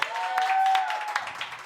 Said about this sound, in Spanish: Un aplauso para Fabricio Reyes Moreno, por favor.